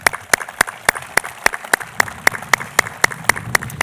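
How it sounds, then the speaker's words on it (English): A small gathering at an outdoor peace officers' memorial claps in a sparse, rhythmic round of applause, with distinct individual claps landing almost in unison at a steady pace. "I just want to give a round of applause for this amazing, beautiful memorial"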